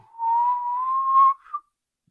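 A voice imitates the whistle of a small pipe, holding one steady, sustained whistled tone for about a second and a quarter before a brief final chirp, close and clear with no other sound.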